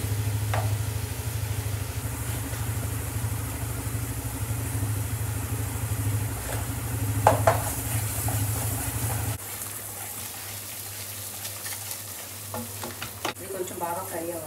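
Paneer butter masala with a little sugar and salt fries in a pan with steady stirring. A loud sizzle and spatula scraping run under a low hum that cuts out partway, then quieter frying with occasional clinks follows.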